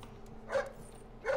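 Guard dog in Splinter Cell letting out two short barks about three-quarters of a second apart over a faint background hum.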